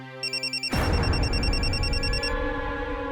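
A telephone rings after a call is placed: a few short pulsed ring tones, then a loud bright bell-like ring that sustains and slowly decays, clear and close with no voices.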